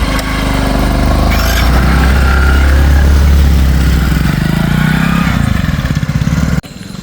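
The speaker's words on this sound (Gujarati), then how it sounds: "અવાજ આવે બાઈક નો" A motorcycle engine runs loudly and close by with a steady, throbbing low rumble that holds for most of the stretch, then drops off abruptly near the end.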